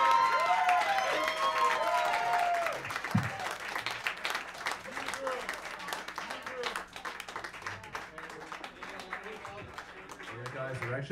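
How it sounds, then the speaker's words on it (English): A live-show audience claps and cheers steadily, with dense applause that fades slightly toward the end, while a voice talks over it. "Give her a round of applause."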